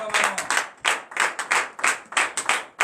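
A church congregation claps in praise during morning prayer in Benin, with a rhythmic run of bursts of hand claps, fairly close and loud, and no talk over them.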